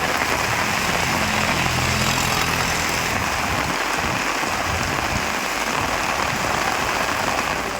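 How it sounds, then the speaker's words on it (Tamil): Moderate rain falls in Tamil Nadu as a dense, steady hiss of drops on surfaces, loud and unbroken throughout with a low rumble underneath and no voices. "பல்வேறு இடங்களில் மிதமான மழை பெய்தது"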